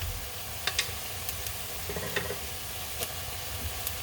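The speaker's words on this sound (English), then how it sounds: "So basically bitter melon stir fry with shrimp, Filipino style." Bitter melon and shrimp stir fry sizzling in a pan, Filipino style, with a constant dense hiss of frying and a few light clinks of stirring scattered through.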